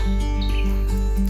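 Wild bird calling near a bridge on an island at dusk, its short chirps repeating in an even rhythm, close and fairly loud over a steady low hum.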